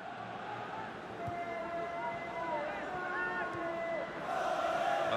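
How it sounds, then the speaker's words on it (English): Stadium crowd noise from the FIFA 17 video game at the Santiago Bernabeu, a steady broad roar with rising chants and swells throughout, growing slightly louder near the end. "Crowd settling back down here in the Santiago Bernabeu Stadium."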